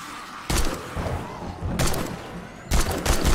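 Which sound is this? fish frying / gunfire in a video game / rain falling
gunfire in a video game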